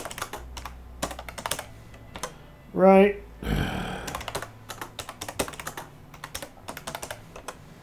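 Clattery keystrokes tap out a password on a computer keyboard in quick uneven bursts, close up, broken by a short spoken word and a brief electronic chirp and whoosh midway.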